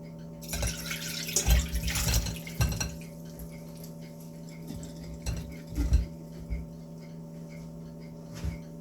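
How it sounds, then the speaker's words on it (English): Homemade hot sauce is drained from a pot into a bowl, giving splashy bursts of pouring liquid and light clinks of cookware, with a steady low hum in the background. "Put it in this bowl and I'll drain it."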